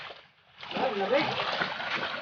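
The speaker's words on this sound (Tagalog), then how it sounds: "Mag-uwas tayo ng mga pinagkainan." Dishes are rinsed in a small stream, water splashing and sloshing nearby in irregular bursts after a brief quiet moment, with a person talking over it.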